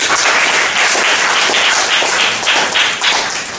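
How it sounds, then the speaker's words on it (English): An audience applauds to welcome a guest speaker at a talk on youth sports in the U.S., with loud, dense clapping and a few sharper individual claps, no speech. "So now let's welcome our speaker, Robert David Grotjohn, with a big round of applause."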